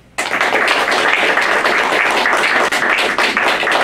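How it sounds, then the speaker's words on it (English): An audience claps and applauds steadily for a speaker at a live-streamed radio and TV show, a dense, even wash of many hands that starts abruptly and holds at full strength with no voices over it. "I'd like to round of applause for Payom Riles"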